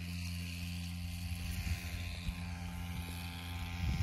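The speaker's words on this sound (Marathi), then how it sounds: "आणि पेट्रोल पंप असल्यावर स्प्रे चांगला बसतो एकदम." A petrol-engine sprayer pump drones steadily while spraying a wheat field, a loud continuous buzzing engine hum with irregular low thumps and surges, heard up close with no talk.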